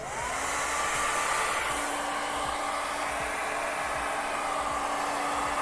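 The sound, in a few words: hair dryer drying airbrushed paint on Minnie Mouse pants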